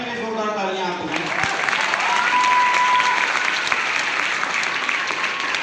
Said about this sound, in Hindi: एक बार अपने लिए जोरदार तालियां आपको